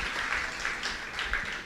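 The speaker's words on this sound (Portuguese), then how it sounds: "Vamos aplaudir o irmão que está do lado que acertou" A lecture audience claps briefly for someone who gave a correct answer, a short close burst of scattered applause.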